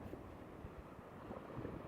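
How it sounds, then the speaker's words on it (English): Wind gusts across a North Wall beach at Grimsby on the UK east coast during sea fishing, a low steady rumbling buffet against the microphone with faint surf-like wash, close and continuous, no voices. "that wind really does just pick the rod up"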